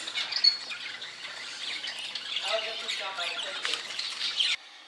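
A newly brought-home pet bird squawks and chirps in short, scratchy bursts, fairly faint and close, over a soft indoor background with a trace of murmured voices.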